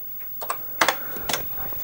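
Keys on a BBC Micro Model B keyboard are pressed as a short command is typed, giving a few quick, close clicks in small bursts over a quiet background.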